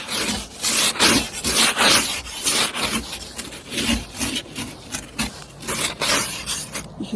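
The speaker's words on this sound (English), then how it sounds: "Oh my God, walking on the ice is so scary." Footsteps on icy ground scattered with grit, a series of crunching, scraping steps in an uneven walking rhythm, close and fairly loud with no talk.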